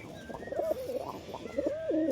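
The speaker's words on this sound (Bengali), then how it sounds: "দেশি গিরিবাজ লাইনের কবুতর" Deshi Giribaz pigeons, a male and female pair, cooing nearby in repeated soft, throaty rolling calls that overlap in a steady rhythm, with no speech.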